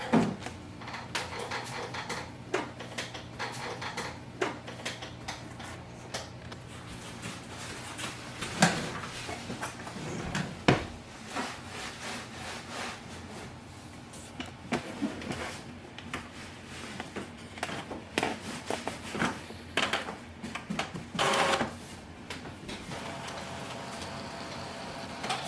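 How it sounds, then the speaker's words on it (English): An Epson XP-5200 inkjet printer whirs and clunks through a startup sequence, with repeated mechanical clicks, knocks and brief motor whines, close by and without talking. "Wait for the printer to start."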